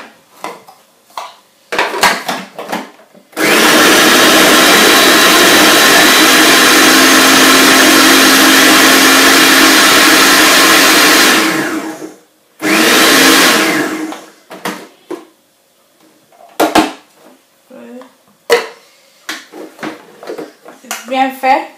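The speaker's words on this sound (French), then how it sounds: "Je vais blender avec les oignons." Onions whir in a kitchen blender in one loud, steady burst of about nine seconds, then a shorter second run, with clatter of pans and utensils before and after.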